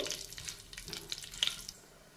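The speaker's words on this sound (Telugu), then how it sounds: "ఇందులోనే జీడిపప్పు అలాగే ఒక బిర్యానీ ఆకు ఇవన్నీ వేసుకుని వీటిని కాస్తంత వేయించుకోవాలి" Cashews and a bay leaf frying in a pan along with fennel seeds and shahi jeera make a faint, uneven crackling sizzle with a few brief clinks, no voices.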